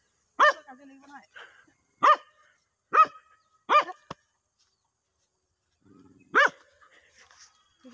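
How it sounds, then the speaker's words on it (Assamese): A dog barks sharply at a goat in a handful of loud, close bursts, spaced irregularly with short pauses, along with faint animal sounds in between. "কুকুৰে ছাগলীক খেদিছে"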